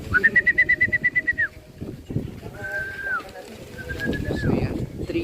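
A racing pigeon returning to its home loft during a summer race in Sto. Tomas, Batangas, makes a string of rapid pulsing coos followed by softer calls and rustling, with people speaking faintly in the background.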